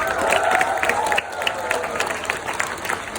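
A school assembly crowd for a women's day event cheers, whoops and shouts together in a sustained, loud burst that fills the room without pause.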